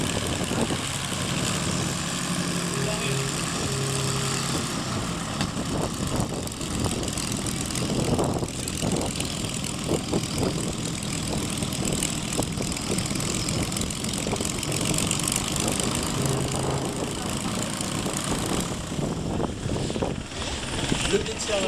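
A Cessna 207 propeller airplane arriving at the Sarlat-Domme air show, its steady engine drone running throughout at moderate distance, mixed with crowd and announcer talk over the field.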